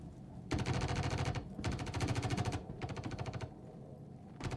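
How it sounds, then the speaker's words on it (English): Rapid bursts of energy weapon fire from a railgun in an online loot-and-extract shooter game, three loud repeated volleys with brief gaps, each a dense stream of sharp pulses. "Oh, wait, that's a railgun."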